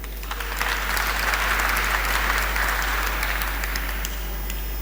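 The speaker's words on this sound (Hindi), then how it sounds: "ताली बजा सकते हो?" An audience claps steadily together at a Jeevan Vidya introductory camp session in Rajasthan, a dense, even burst of applause that carries on for several seconds before thinning out near the end.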